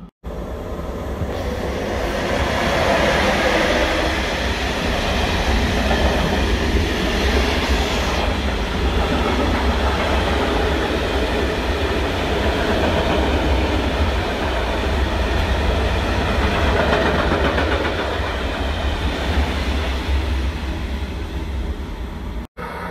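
An electric commuter train rushes past without slowing, a loud continuous rumble with rhythmic wheel clatter that holds steady, then cuts off abruptly.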